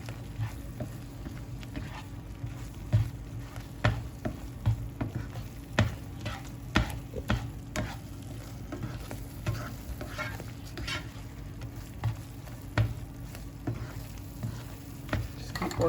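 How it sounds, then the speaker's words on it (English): Vietnamese peanut dipping sauce is stirred in a pan, a soft steady sizzle under repeated rhythmic taps and scrapes of a utensil, close and unhurried, with no talking. "So we just keep mixing here until it's all blended well together."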